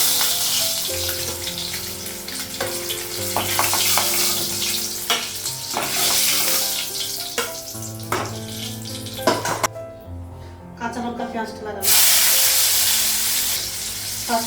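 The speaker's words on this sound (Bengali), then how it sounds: "ডিমটা ভাজা হয়ে গেছে।" An egg sizzles and fries in a pan with turmeric in a home kitchen, a steady loud crackle with stirring and clattering, and some running water toward the end, no talking.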